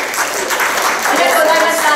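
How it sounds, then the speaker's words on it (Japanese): Applause from the audience at a Japanese political gathering as a speaker departs, a thick, continuous wash of clapping from many hands that holds steady, with voices mixed in underneath. "お見送りの拍手をよろしくお願いいたします"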